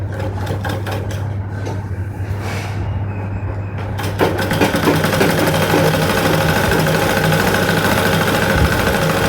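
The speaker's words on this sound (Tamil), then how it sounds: "இப்போ மடக்கி வச்சு இப்படியே தைக்க போகிறோம்" A sewing machine stitches folded cloth with a fast, rattling motor hum, starting quietly, pausing briefly, then running continuously and louder through the second half, with no talking.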